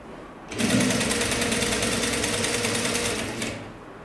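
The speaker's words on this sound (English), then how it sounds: "And this part here, I can keep sewing." A sewing machine sewing a sleeveless top starts up and runs in one loud, steady, rapidly pulsing stretch of about three seconds before stopping, with no talking.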